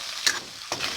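Crab frying in a pan over a medium flame, with two brief scraping sizzle bursts over a faint steady hiss, close and quiet.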